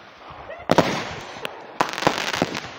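Fourth of July fireworks, two sharp close bursts each followed by a rapid crackle of small pops, with a quiet gap between them and faint voices around.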